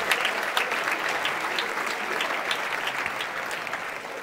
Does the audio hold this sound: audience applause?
yes